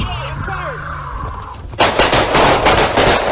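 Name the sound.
gunshots fired during arrest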